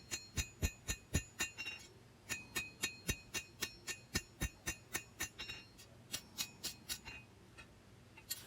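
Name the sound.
hammer planishing a forged steel knife blade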